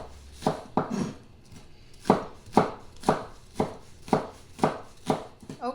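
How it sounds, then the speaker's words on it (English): Knife chopping chives or green scallions on a cutting board for a shaved Brussels sprouts salad, a steady run of about a dozen crisp, close thuds in an even rhythm with no talk. "So I'm chopping right about 1/3 a cup."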